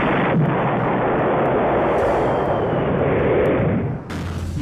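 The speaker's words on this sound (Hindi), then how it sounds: "मिसाइलें बरस रही हैं, तोपें आग उगल रही हैं" Russian artillery firing in Ukraine: a dense, continuous roar of booming fire with sharp bursts, loud and steady, ending in a brief lull.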